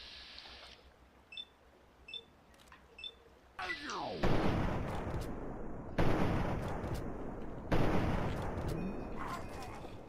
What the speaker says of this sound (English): That guy's got a machine gun on him.